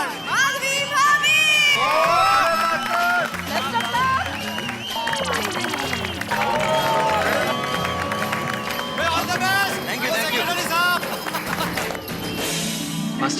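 An audience at a housing-society disco night claps and cheers loudly to welcome two performers on stage, with shouting children and crowd noise swelling throughout, mixed with talk and music.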